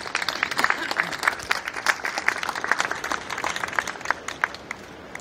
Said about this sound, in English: So a big round of applause for the organisations and their volunteers.